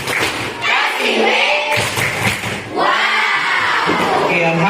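A class of children in a lesson does a group clap-and-chant routine, loud shouted voices in unison over rhythmic clapping, close and energetic with brief pauses between bursts.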